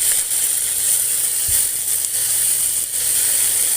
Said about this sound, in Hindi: इसे मैं टमाटर सॉफ्ट होने तक भूनूंगी